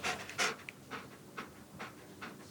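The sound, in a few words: dog panting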